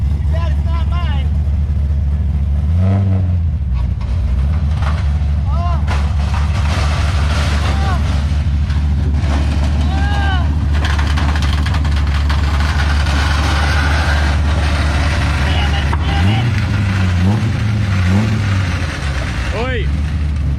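A drift car's engine revs loudly and steadily throughout, rising and falling in pitch close by, with people talking over it.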